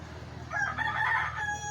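A rooster crows once at a moderate distance, a short rising and falling call over a low steady background hum outdoors at night.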